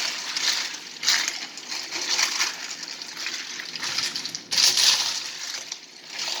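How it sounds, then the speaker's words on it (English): Ice water brine is stirred in a huge pot, ice cubes clinking and sloshing in irregular bursts against the sides, close and moderately loud. "I'm going to stir this to make sure that all of the water is iced"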